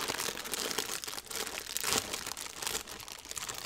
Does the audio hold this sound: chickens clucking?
no